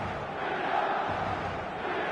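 A large stadium crowd in the eFootball video game, a steady, dense roar of many voices with a faint rising swell, sustained and even throughout.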